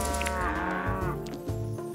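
A cow moos in the Township farming video game, a loud sustained lowing call that fills the whole moment alone, with no talk over it.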